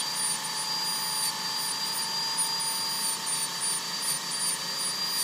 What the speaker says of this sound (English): Short measured strokes, and keep that burr moving